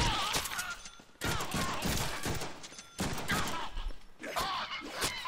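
Rapid bursts of gunfire in the Deadpool video game, coming in several separate volleys with brief pauses between them, fairly loud and dense.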